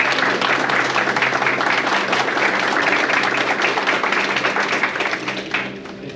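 Sustained, dense applause from a crowd at a UTI graduation ceremony honoring the instructor and administrative staff, steady and loud before tapering off near the end.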